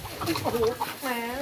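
A chicken clucking and squawking as city people try to catch it, a few short close calls followed by a longer rising squawk, with voices talking over it.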